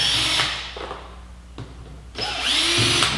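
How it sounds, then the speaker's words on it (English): A cordless drill spins out screws on a Honda CBR1000RR motorcycle, whirring in two bursts with a gap of quieter handling sounds between them; no speech. "I'll go ahead and use my cordless. Remove all these screws, it'll go a little quicker for us."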